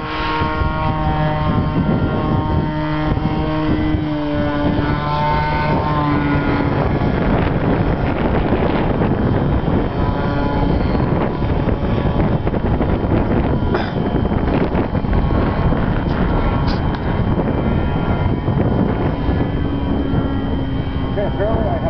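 Strong wind buffets the microphone at a field where a small RC plane flies, a constant roaring rumble with gusty surges, while a thin propeller whine rises and falls in the early part.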